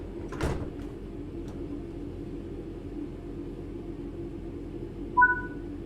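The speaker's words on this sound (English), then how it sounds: "Now that the passengers have boarded the train, close the doors." Train passenger doors close in the Train Sim World 4 video game: one loud whooshing slam near the start, then a steady low hum, and finally a short two-tone electronic chime.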